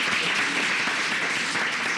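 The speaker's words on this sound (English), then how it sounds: "Please give our panelists a round of applause." An audience applauds a panel discussion in a brief, even wash of clapping that sounds somewhat distant and diffuse, without distinct individual claps.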